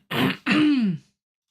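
A person with a lingering cough clears their throat twice in quick succession, close and fairly loud, the second rasp longer and sliding downward in pitch.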